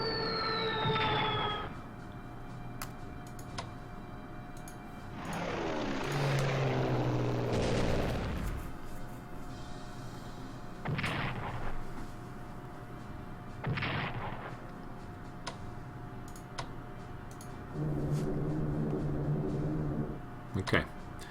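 Airplanes bombing Amiens in the strategy game Strategic Command: World at War, heavy booming explosions and rumbling blasts repeating across the scene, a whistling tone at the start, with someone talking at times.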